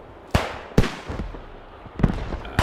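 Mortar rounds in the World War II game Squad 44 land nearby, each impact a sharp, loud blast followed by a short rumbling decay. Four main explosions arrive at uneven intervals over a low background din.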